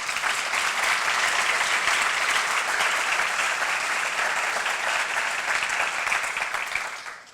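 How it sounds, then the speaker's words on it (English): An event crowd gives sustained, even applause for laureates, inductees and student presenters, holding strong for about seven seconds before trailing off at the end. "we do definitely want to give another round of applause for our laureates, our inductees, and the student presenters tonight"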